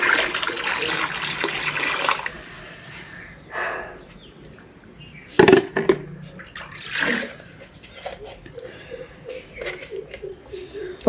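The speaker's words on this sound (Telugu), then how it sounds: "ఒక 2 లీటర్ల నీటిని అయితే ఈ 20 లీటర్ల డబ్బాలో వేస్తున్నాను" About two litres of water poured into a 20-litre can to mix a homemade fertilizer solution for a terrace garden, giving splashy gushes in uneven bursts with quieter gaps between them and some background talk.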